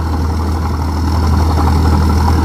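Engine of a 2021 soil-tilling tractor running steadily nearby, a loud continuous low rumble with a constant droning hum and no breaks.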